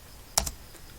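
Keystrokes on a computer keyboard while HTML code is typed into the VS Code editor: two quick close clicks, then quiet.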